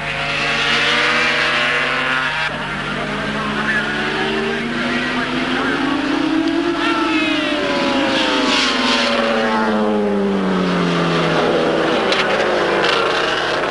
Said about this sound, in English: John Woodley is riding like there's no tomorrow and taking an incredibly low line through corners, scraping pipes and fairy